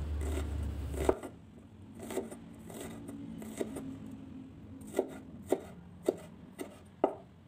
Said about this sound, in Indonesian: saya pakai seperempat buah bawang bombay diiris-iris seperti ini bawang bombaynya